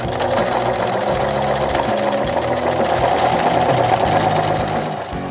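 A sewing machine stitches a seam through very fine fabric, its motor running loud and steady in a continuous mechanical whir with a rapid needle rhythm, close up and uninterrupted until it eases off near the end.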